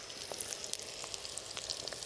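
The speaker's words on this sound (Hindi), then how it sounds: "तेल गर्म हो गया है, अब इसी में हम सारे पकौड़े को छोड़ देंगे इस तरह से" Fish egg pakoras frying in hot oil in a kadhai, a quiet, steady sizzle scattered with small crackles and pops, with no voices.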